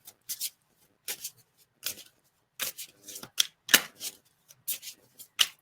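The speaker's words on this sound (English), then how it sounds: "we're going to draw Archangel Michael cards, of course" Archangel Michael oracle cards being shuffled up close: short papery riffles and slides in irregular bursts separated by brief silences, with no talking.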